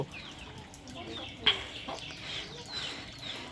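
Faint chicken clucking sounds in the background, soft and intermittent, with a quiet outdoor murmur around it.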